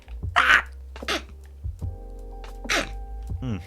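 A single sharp sneeze bursts out near the start, followed by a few throat noises and breaths in a quiet room.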